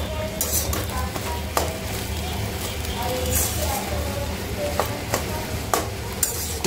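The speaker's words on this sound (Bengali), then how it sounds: "খুব সুন্দরভাবে গোলমরিচ মিশিয়ে নেওয়ার পরে আরেকটু নাড়াচাড়া করবো" Food frying in a pan while freshly added black pepper is stirred through, a steady close sizzle broken by repeated spoon scrapes and taps on the metal, with a low hum underneath.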